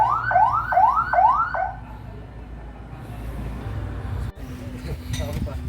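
An ambulance siren wails in three rising sweeps up close at the start, then gives way to street and engine noise while people talk nearby.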